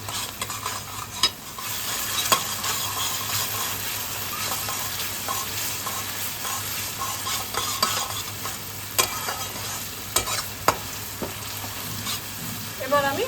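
A spice paste with turmeric and salt sizzles and fries in a pan for a vegetarian paneer curry, with a spoon scraping and stirring it in irregular, clattering strokes and no voices.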